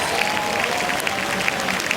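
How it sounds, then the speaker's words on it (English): Spectators at the 2016 Hurley Pro surf contest at Trestles cheer and applaud in a steady, dense wash of clapping and crowd noise, with a commentator's voice running faintly underneath. "You can hear the crowd."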